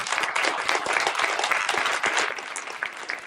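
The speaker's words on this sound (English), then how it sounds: "I'd love to give her a warm round of applause" A Pueblo, Colorado audience at a Chautauqua program gives a warm, steady round of applause, many hands clapping at once with a few sharper claps standing out, easing slightly near the end.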